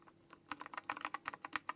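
Rapid keystrokes on a Freewrite Gen 3 keyboard, about fifteen crisp clicks in a quick uneven rhythm, close and fairly quiet with no voices.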